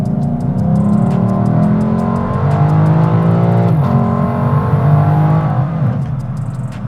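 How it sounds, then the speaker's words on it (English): A 2020 Lexus LC500 engine revs hard and loud through a continuous acceleration, its pitch climbing steadily with a brief dip and shift around the midpoint before pulling again, with no voices. "just so I can listen to the sounds that this engine makes"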